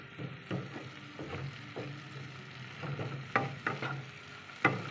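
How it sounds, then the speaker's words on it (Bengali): Chopped capsicum with salt being stirred in a frying pan, a faint low sizzle broken by a series of spatula scrapes and taps against the pan at an uneven rhythm. "শুধু নুন দিচ্ছি, নুন দিয়ে একটু নেড়ে নেব।"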